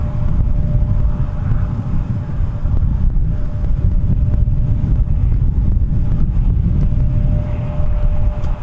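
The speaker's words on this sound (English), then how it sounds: "the wind has only started to pick up here from MSP International" Gusty wind buffets the microphone at MSP International Airport, a steady loud rumble with a faint constant tone running underneath throughout.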